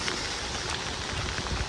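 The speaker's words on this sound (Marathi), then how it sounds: "पाऊस पडतोय" Rain falls outdoors in the Konkan countryside as a steady, dense hiss of drops on surfaces. It is even and moderately loud throughout, with no voices.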